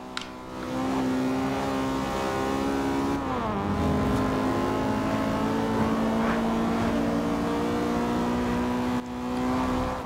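An Acura Integra Type-R engine in the video game Forza Horizon 2, revving up with a steady, rising drone, dipping briefly at a gear change, then pulling hard again before cutting off near the end.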